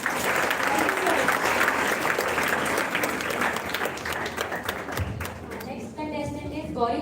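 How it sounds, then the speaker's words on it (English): Big round of applause from the audience for students and participants at an inter-school declamation contest, steady dense clapping filling the hall for several seconds and fading out at the end, with a voice speaking over the final moments. "these are students and participants need a big round of applause"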